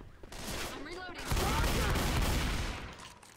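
Gunfire in the video game Left 4 Dead 2: a dense, loud burst of rapid shots fills most of the moment, following a brief stretch of game noise and voice.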